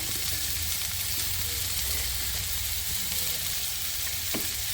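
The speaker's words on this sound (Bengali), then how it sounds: "হলুদের গুঁড়ো দিয়ে নিয়েছি দিয়ে ভালো করে নাড়া দেবো মিষ্টি কুমড়োটা" Sweet pumpkin fries with turmeric in a pan, sending up a steady, dense sizzle with the soft scrape of stirring mixed in, close by and continuous.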